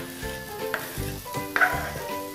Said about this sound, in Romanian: Încingem o tigaie, punem ulei de măsline, sotăm ceapa împreună cu usturoiul